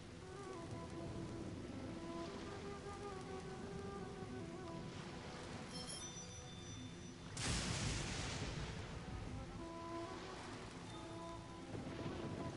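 Steady rain downpour in the Genshin Impact video game, a dense broadband hiss running throughout with a louder surge of wash midway and faint tonal game music underneath.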